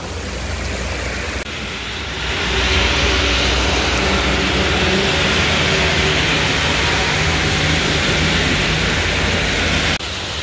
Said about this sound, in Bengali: বৃষ্টিটা এত হট করে আসলো